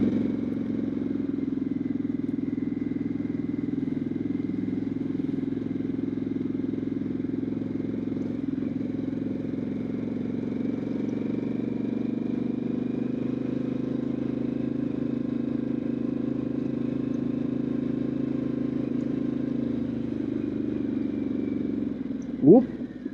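A Harley-Davidson Pan America Limited motorcycle rides off-road over potholes, broken pavement and uneven ground past campsites. Its engine drones steadily and close throughout, with a sharp knock near the end as it takes a big bump.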